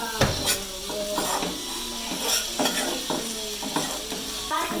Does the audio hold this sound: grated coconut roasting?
yes